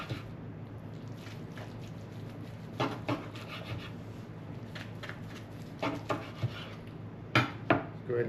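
A knife slicing through a smoked brisket after nine hours of cooking, with soft scraping cuts and several sharper knocks of blade on board near the end, close and quiet.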